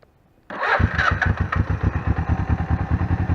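A cheap, older Suzuki GS 250/450 motorcycle under restoration fires up after a brief crank, then settles straight into a steady, lumpy idle with even pulsing exhaust beats, close and loud.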